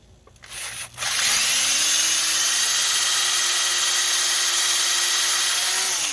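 A power drill with a left-handed bit whirs steadily at close range for several seconds after a brief start, its motor pitch holding nearly constant as it bites into a stuck screw to extract it.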